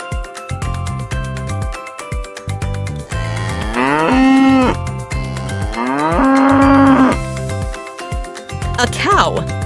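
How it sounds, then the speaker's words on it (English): Cow mooing in two long, loud, drawn-out calls, each a steady low bellow, set among other repeated farm-animal sounds in a quiz for children. "A cow."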